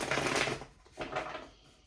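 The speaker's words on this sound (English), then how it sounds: "Oh, I want to shuffle one more time." Tarot cards being shuffled by hand, two quick papery riffling bursts close to the ear with a short gap between them.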